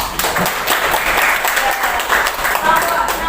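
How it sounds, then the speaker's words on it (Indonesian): A classroom of eighth-grade students applauds a student group, a dense burst of clapping from many hands filling the room, with a teacher's voice over it. "Kita kasih tepuk tangan untuk kelompok 6."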